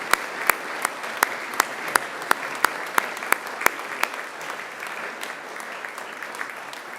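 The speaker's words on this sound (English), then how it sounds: "And now it's time to give them a mighty round of applause" Graduates at a university graduation ceremony applaud their families and friends, a steady wash of crowd clapping lasting several seconds with a few sharper, closer claps standing out.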